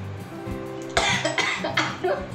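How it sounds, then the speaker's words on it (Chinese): A person coughs several times in quick succession in a home kitchen, close and loud, each harsh burst following the previous one with short gaps. "咳嗽了"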